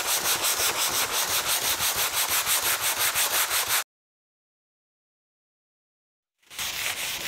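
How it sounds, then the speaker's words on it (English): Rhythmic back-and-forth rasp of abrasive paper sanding old finish off a wooden table, loud and close, stopping into silence for a few seconds before resuming. "Okay, so I've sanded back now,"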